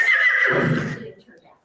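A horse gives a single loud, close whinny, a high shrill cry that drops into a rougher, fading nicker over under two seconds.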